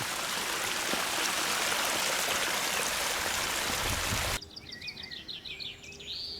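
Water springs gush out of the ground at Conques-sur-Orbiel in France, a loud close steady rushing roar. It cuts off abruptly to quieter ground noise with bird chirps.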